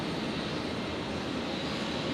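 Jetstar jet airliner taking off from runway 01 right at Brisbane airport, a broad steady engine roar held at constant loudness without a break.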